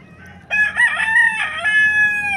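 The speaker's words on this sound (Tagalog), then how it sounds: "Ayun, may mga manok pa guys." A rooster crows loudly and close by in one long, drawn-out call, with faint clucking in the quiet background before it starts.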